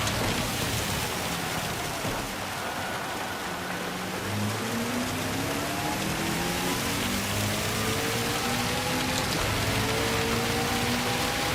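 Steady hiss of rain fills a wet race in the Gran Turismo 7 racing game, with faint engine tones rising and shifting underneath throughout.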